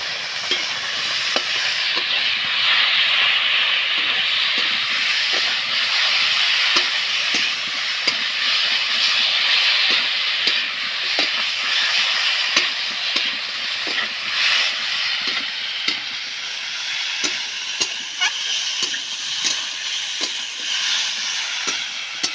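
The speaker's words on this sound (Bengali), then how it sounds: "এগুলোকে আমি হালকা করে ভাজবো।" Cauliflower and mixed vegetables frying lightly in a pan, a continuous close sizzle with frequent small clicks and scrapes of stirring throughout.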